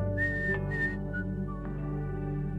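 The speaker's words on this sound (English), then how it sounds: "her dad left for work with a whistle and a wave" A cheerful whistled melody from a dad heading off to work in a bedtime story, a few bright sustained notes and short phrases over a steady low hum, close and clear with no talking.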